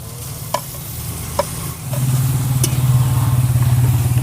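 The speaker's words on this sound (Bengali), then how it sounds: "এবারে বেটে রাখা কাঁচা লঙ্কাটা দিয়ে দেবো" Ground green chilli paste goes into a hot pan for a cabbage and potato curry. A couple of light scrapes are followed by a loud, steady sizzle that swells and holds, with no voices.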